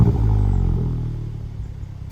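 A VW Golf GTI Clubsport 8.5 engine starts with a loud low rumble that flares briefly, then settles into a smooth idle close by.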